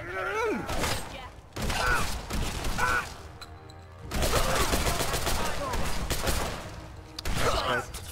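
Bursts of gunfire and crashing combat sounds from the video game Fallout 4 rage through the moment, with brief pauses between volleys and game voices heard in the mix.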